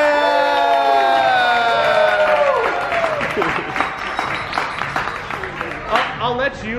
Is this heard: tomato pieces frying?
no